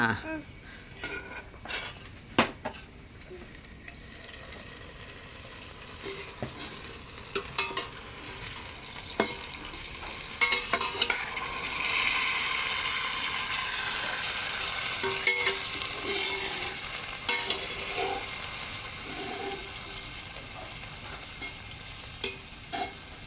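Chicken biryani with tomato cooks in a pot, giving a steady frying sizzle that grows louder about halfway through. Scattered scrapes and light clinks come from stirring, with quiet voices in the background at times.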